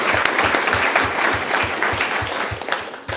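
Audience applause at a Peoria Unified school board meeting for Liberty High School coach Chris Raymond and the athletes' families, steady dense clapping filling the room throughout, with a few louder rhythmic claps standing out.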